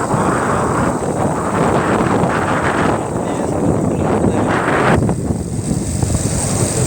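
Strong wind blows across a rocky hill, roaring and buffeting the microphone in loud gusts that surge and ease, with the noise thinning briefly near the end.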